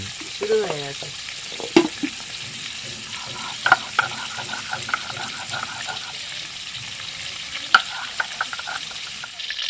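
Potatoes and radish fry in a pan in a home kitchen, giving a steady close sizzle with scattered sharp clinks and scrapes of stirring, fairly loud, with no talking.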